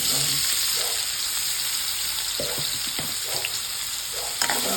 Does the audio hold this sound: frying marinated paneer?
yes